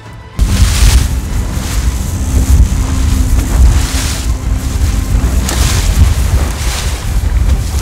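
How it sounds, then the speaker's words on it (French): Strong wind sweeps over a rough lake, roaring loudly and continuously into the microphone with buffeting gusts and choppy water beneath, no voices present. "Il y a trop de vent."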